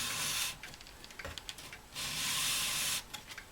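Sandpaper rubs a filed spot on an acrylic organ pipe in two long, loud hissing strokes separated by shorter, lighter scrapes, close up and with no talking.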